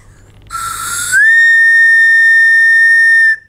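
A short breathy onset, then a loud, steady high-pitched bamboo flute tone rising slightly into one sustained note lasting a few seconds.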